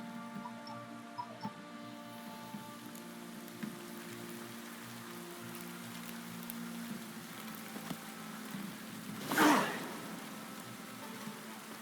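Steady rain patters down in The Witcher 3, a soft continuous downpour with a brief louder burst near the end, heard alone without talk.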